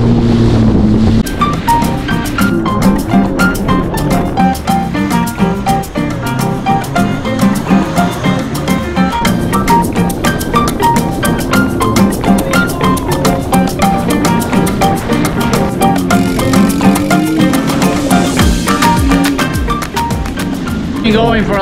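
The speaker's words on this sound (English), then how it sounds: "Jet ski time, my friend." A jet ski rides over fairly big ocean waves off Thailand, its motor droning steadily with wind buffeting the microphone and water splashing for the whole stretch, with some voices mixed in.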